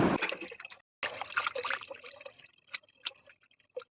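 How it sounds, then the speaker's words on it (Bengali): Raw chicken being rinsed by hand in water, with splashing and sloshing bursts, a brief pause, then scattered drips and small splashes, close and fairly quiet. "আমি চিকেনটা ধুয়ে নিচ্ছি"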